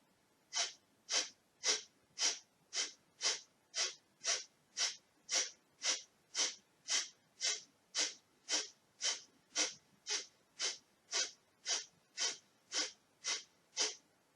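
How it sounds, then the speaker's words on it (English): Kapalabhati yoga breathing: a long run of rapid, forceful nasal exhalations, about two per second in an even rhythm, each a sharp close puff of air, with nothing else heard. "this is I would say, the normal way to practice Kapalabhati"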